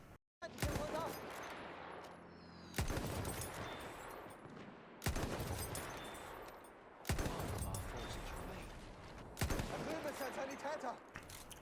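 Sniper rifle shots in Battlefield 1 as a player wipes out an enemy squad: five loud, sharp cracks spaced roughly two seconds apart, each followed by a long ringing decay, with faint talk underneath.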